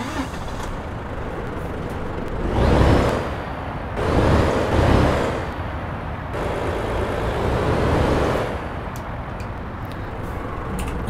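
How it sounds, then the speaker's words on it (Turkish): A Ford F-MAX truck idles outdoors, its diesel engine a steady rumble heard from outside, with a few louder swells and hissing bursts rising over the running engine. "Şöyle bir aracımızı çalıştıralım, bir dışarıdan dinleyelim sesini."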